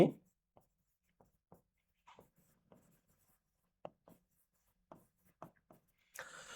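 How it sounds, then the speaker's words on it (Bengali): Marker or chalk strokes on a board during a Bengali lesson, a dozen short scratchy taps and squeaks spaced irregularly, close and faint, with a brief louder rustle at the end. "একটু লিখে দেই"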